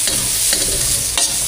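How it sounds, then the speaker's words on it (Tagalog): Garlic, onion and ginger sauté in a little oil for a Filipino mussel soup, giving a loud, steady sizzle with brief stirring scrapes throughout and no talking. "Igisa natin bawang sibuyas at luya."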